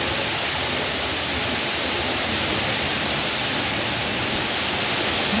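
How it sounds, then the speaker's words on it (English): A large waterfall roars inside a cave in the Arkansas Ozarks: a dense, steady wash of rushing water that stays loud and unbroken throughout, with no voices. "there's a waterfall back here and it's big, I can tell."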